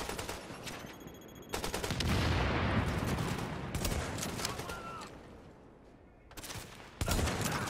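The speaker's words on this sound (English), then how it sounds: "Four sniper bullets to take him." Sniper rifle fire in The Division, several loud sharp cracks separated by rumbling tails and quieter gaps, close and punchy, with faint game ambience between shots.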